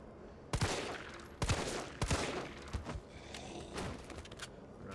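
Gunfire in the video game Resident Evil 3 Remake, with loud, sharp shots spaced irregularly across the clip and no talking.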